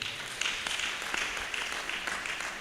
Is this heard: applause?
yes